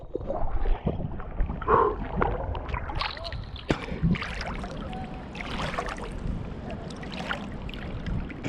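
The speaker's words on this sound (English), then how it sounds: "just swimming in a lake in Austria" Swimming and water splashing in a lake at a public beach in Austria, a steady close wash of water movement with wind buffeting the microphone and occasional louder splashes.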